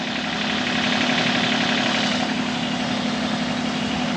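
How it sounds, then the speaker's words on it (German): A steady engine idles with a constant low rumble and faint knocking vibration, continuous and fairly loud, with no speech over it. "Der Motor ist an von dem Ding."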